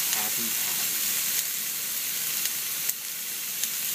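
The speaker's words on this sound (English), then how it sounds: "Can you hear them sizzling?" Steady, close sizzling of German beef rouladen frying in a pan, a continuous bright crackle with occasional louder pops.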